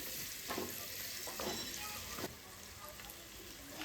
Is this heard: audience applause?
no